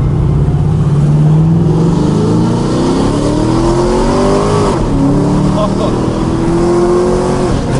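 A V8-swapped car pulls hard at full throttle, its engine note climbing steadily in pitch, dropping briefly at an automatic upshift around the middle, then rising again; loud and close throughout, with occupants talking over it.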